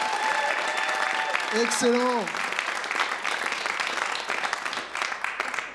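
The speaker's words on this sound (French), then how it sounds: "Et on peut encore applaudir, s'il vous plaît" Audience applause at a comedy club, dense sustained clapping from a crowd, with a voice briefly calling out over it early on before the clapping continues and tapers slightly.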